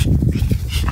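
A dog pants in quick, close, loud breaths with a faint whimper mixed in.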